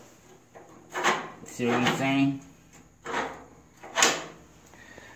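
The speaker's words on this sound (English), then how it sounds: "you open it up, you put your wood in, you close it." The iron door of a cylinder potbelly wood stove opens and shuts with metallic creaks, scrapes and a few clunks at close range, while someone talks between the sounds.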